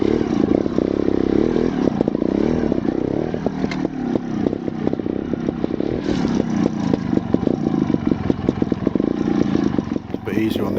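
A Scorpa 250 trials motorcycle is ridden close by in practice, its engine blipping and revving in short bursts with clattering and scraping over rough ground.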